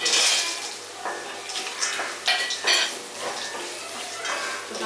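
Roasted peanuts are stirred into raw mango in a pan: a spatula scrapes and clatters against the metal in uneven bursts over a soft frying hiss, close and fairly loud.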